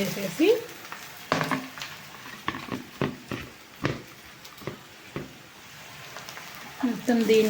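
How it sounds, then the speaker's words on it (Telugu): Cleaned prawns go into a pan of fried onions, crackling and sizzling under repeated clattering spoon strokes in an uneven rhythm, close by, with a few soft voice sounds at the edges. "ఇప్పుడు మనం ముందుగా కడిగి శుభ్రం చేసుకున్న రొయ్య పొట్టుని దీనిలో వేసేయాలి"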